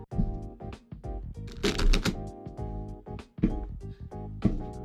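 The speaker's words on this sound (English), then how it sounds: "start shuffling for these" Tarot cards being shuffled by hand, a run of papery riffles and soft slaps with uneven rhythm, close and fairly loud, with no talking.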